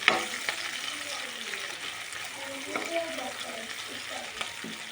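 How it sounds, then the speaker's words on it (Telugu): Curry leaves and green chillies fry in oil over a low flame with onions, making a soft, even sizzle close by. Faint stirring taps and small bubbling pops come through now and then. "కరివేపాకు 2 యాడ్ చేస్తున్నాను. సిమ్లో పెట్టేసి వేయించుకోవాలి వీటిని."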